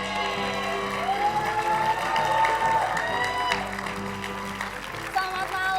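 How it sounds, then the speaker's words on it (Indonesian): Studio audience at an Indonesian television talk show applauds and cheers for actor Adipati Dolken, a steady wash of clapping with scattered whoops and crowd noise over music or tonal sounds, fairly loud and sustained throughout. "Tepuk tangan buat Adipati Dolken"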